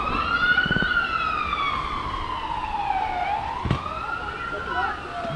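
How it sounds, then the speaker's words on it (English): An ambulance siren passes near a JV girls soccer game, a steady wailing tone sweeping down and back up over several seconds, loud and continuous with crowd noise beneath. "Looks like an ambulance."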